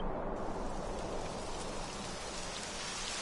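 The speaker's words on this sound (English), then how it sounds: "It would have to go and start raining, wouldn't it?" Rain beginning to fall in the video game Dragon Quest XI, a continuous soft hiss of rainfall that thickens within the first moment and then holds steady, quiet and alone with no voices.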